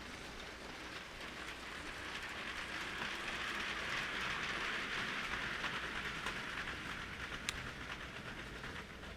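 A large LEGO train with two sets of drive wheels, powered by a single battery box, runs around the outer loop of a LEGO train yard, giving a steady, continuous rattling whir of wheels on plastic track, fairly close and unbroken, with no talking.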